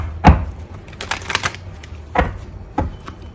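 Tarot cards being shuffled by hand during a reading, giving a few short, crisp riffling and tapping bursts spaced irregularly, close and fairly loud with no talk over them.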